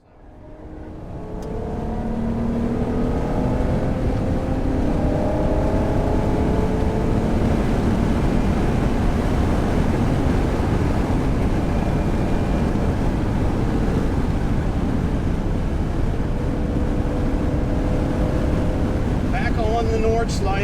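An NSX sports car lapping the Nürburgring Nordschleife, heard from inside as a loud continuous engine drone with wind and road roar that swells in the first two seconds and holds steady throughout.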